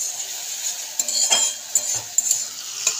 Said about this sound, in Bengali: পেঁয়াজটাও ভাজা ভাজা হয়ে যাবে, টমেটো পেস্টটাও ভাজা ভাজা হয়ে যাবে